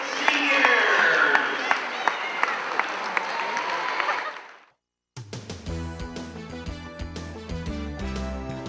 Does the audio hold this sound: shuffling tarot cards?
no